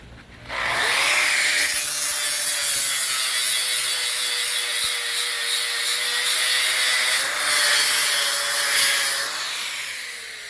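Weld is taken off a metal deck rail during fabrication work, a sustained abrasive grinding drone with a steady whine that starts abruptly, runs for about eight seconds with a slight pitch shift, then cuts off.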